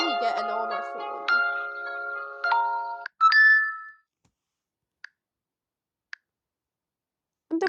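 Default notification tones on an Honor 90 Lite phone: a bright melodic chime phrase with ringing tonal notes, followed by short plinks and brief clicks separated by silence, heard alone and close.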